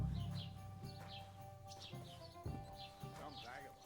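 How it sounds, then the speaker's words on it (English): Birds chirp and tweet in short repeated calls in an indoor scene of the video game Kingdom Come Deliverance II, mixed with faint ambient hum and soft footsteps. "Why can I still hear the birds?"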